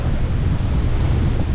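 Strong wind buffets the microphone on a remote beach in Palawan, Philippines, a loud, continuous low rumble with surf-like roar underneath, no talk.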